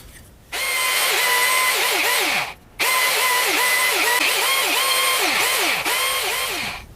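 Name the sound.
power drill drilling out broken wooden dowels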